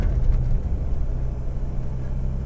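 A diesel pickup engine running rough after petrol got into its fuel, a low steady rumble with a faint uneven stutter around 2500 rpm, heard from inside the cab without talk.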